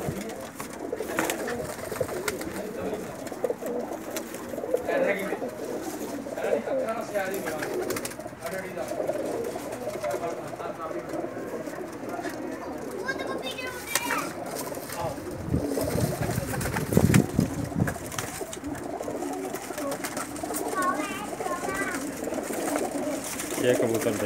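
Soft, repeated cooing from a pair of Teddy pigeons over steady outdoor background noise, with a person talking intermittently throughout.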